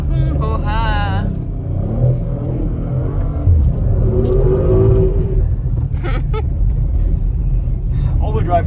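An Audi RS4 B9 with all-wheel drive accelerates while drifting through snow, its engine rumbling loudly and rising in a strained rev, under someone talking over it almost throughout.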